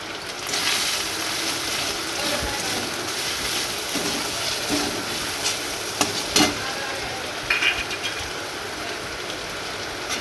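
Cumin paste and spices tempering in hot oil for khichuri in a village kitchen, a steady broadband sizzle with occasional stirring scrapes and a few sharp spits, rain faintly in the background, no talking.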